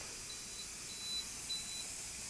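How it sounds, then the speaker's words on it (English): Three short electronic beeps from a pressure canner sound faintly over a steady background hiss, evenly spaced and fairly quiet. "There's your three beeps."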